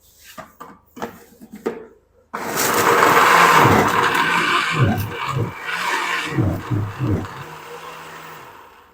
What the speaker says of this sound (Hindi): अब हम इसको फाइन पीस लेंगे, यानी इसकी पेस्ट बना लेते हैं